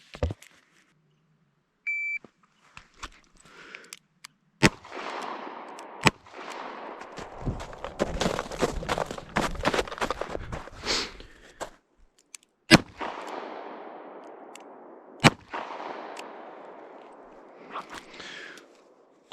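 Gunshots fired at target stands on an outdoor range, sharp single reports spaced irregularly with two close shots repeated, echoing between quieter stretches with some beeps and movement.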